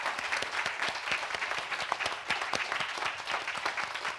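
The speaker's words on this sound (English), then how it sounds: "Please a round of applause for all our panelists." Audience applause for the panelists at the close of a Socio-Legal Studies Association 2024 plenary session, dense steady clapping from a seated crowd that holds at an even level for the whole stretch.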